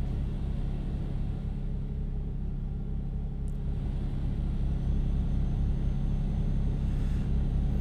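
A truck engine, not a Scania, drones steadily in Euro Truck Simulator 2 on an early-morning snowy drive, a constant low rumble that stays even throughout with no speech.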